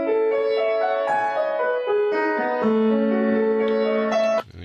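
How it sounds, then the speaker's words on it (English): A solo piano plays Debussy's Arabesque, a flowing, lilting melody of rippling notes over sustained chords, clear and close, cutting off abruptly at the end. "Now, this piano sequence sounds like this."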